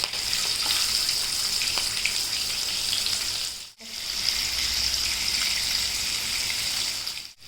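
Potato slices sizzle and fry steadily in hot oil in a pan with curry leaves and green chillies, a loud continuous crackle that briefly drops out midway before resuming.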